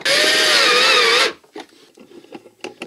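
A power drill drives screws while a Blum Aventos HF lift mechanism is mounted in a cabinet, a loud close whine for just over a second before it stops, followed by faint handling clicks and rustles.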